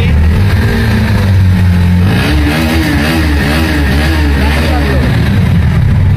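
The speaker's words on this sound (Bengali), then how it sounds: "দাদা গাড়িটা স্টার্ট দিচ্ছে" A Bajaj motorcycle at a bike showroom in Falakata starts and revs, its mid-pitched engine note rising and falling steadily up close, with people talking over it.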